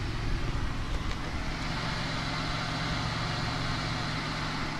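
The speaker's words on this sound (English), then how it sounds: "You can hear the idling." A Pontiac Grand Prix GTP engine idles, with a steady low rumble and broadband hum, evenly droning and moderately close without voices.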